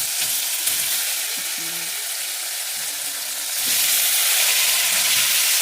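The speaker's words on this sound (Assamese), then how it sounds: "এয়া এতিয়া মছলাত মিক্স কৰি থোৱা পনীৰ কেইপিচ মই ভাজি লম।" Spiced paneer pieces frying in a pan, a continuous close hissing sizzle with a few soft stirring knocks, growing slightly louder toward the end, no talking.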